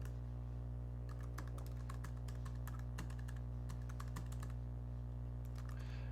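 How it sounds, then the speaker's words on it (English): Rapid bursts of clicking keystrokes on a computer keyboard as an email address and password are entered, close and clear over a constant low electrical hum. "You want to type in your email account, type in your password"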